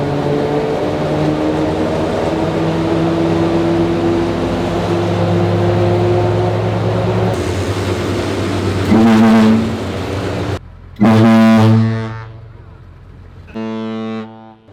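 A cruise ship horn mounted on a tank blasts in a parking lot, long loud sustained deep tones first, then several shorter separate honks near the end.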